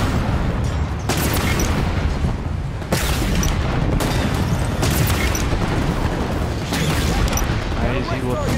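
Video game gunfire and heavy booms hit again and again, loud and close, over a dense bed of combat noise, with voices talking along with the shooting.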